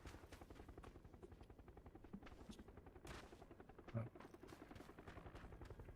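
Helicopter rotor chopping through a video game firefight, a steady low thudding pulse running throughout, mixed with dense rapid gunfire bursts and a sharper blast near the end.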